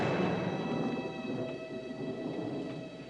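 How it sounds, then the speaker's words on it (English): Thunder on a dry day before rain, a faint, distant low rumble rolling on steadily for a few seconds with no talk over it. "You know what that is? That's thunder."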